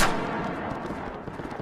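Rapid full-auto pistol gunfire with a switch in the video game Insurgency Sandstorm, a loud, dense burst of shots running continuously close up, with no talk over it.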